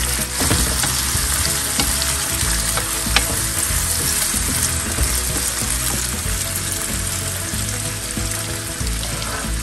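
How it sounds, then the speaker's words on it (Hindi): Zucchini, carrot, green chili, capsicum and asparagus sizzle steadily in a hot pan for asparagus pulao, with constant frying crackle and occasional stirring scrapes, close and alone. "कैप्सिकम और एस्पैरगस, अब हमने हमारे सारे वेजिटेबल्स इसके अंदर डाल दिए हैं"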